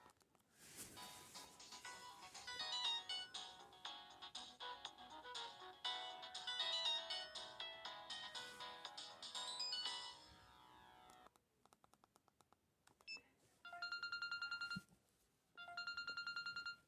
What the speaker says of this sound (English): Such a cheap phone and such nice ringtones.